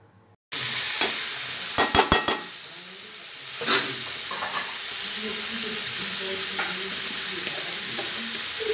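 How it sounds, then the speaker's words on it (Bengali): Banana flower being stirred into spiced potatoes in a hot pan: a loud, steady sizzle and fry with a few quick metallic clicks and scrapes of a spatula near the start, continuing close and unbroken. "এই মশলার সঙ্গে মোচাগুলো দিয়ে সুন্দর করে নাড়িয়ে চাড়িয়ে"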